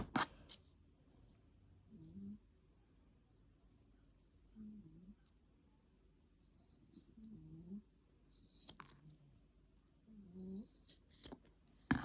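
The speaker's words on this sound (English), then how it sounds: "you can go and trim these" Scissors trimming the cords of a macramé keychain, several quiet snips spaced a few seconds apart, close and faint with soft handling noise between.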